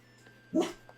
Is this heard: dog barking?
yes